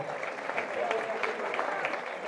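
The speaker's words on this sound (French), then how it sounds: "On peut l'applaudir très très fort" Crowd applause at the Albi carnival, France's oldest, honouring a carnival queen, a steady dense clapping that holds through the whole stretch with voices mixed in.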